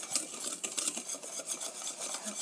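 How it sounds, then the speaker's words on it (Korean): A utensil stirs a dry mix of flour, sugar and baking powder in a bowl, producing quick scraping and rubbing strokes in a steady rhythm, close and moderately quiet. "고루 섞어주세요. 밀가루와 설탕, 베이킹 파우더가 잘 섞여지도록"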